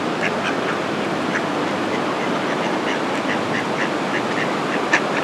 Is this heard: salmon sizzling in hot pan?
no